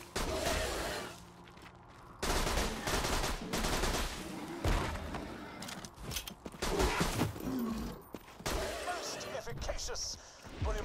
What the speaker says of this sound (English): This gun would be really, really good to take out the big ones like this.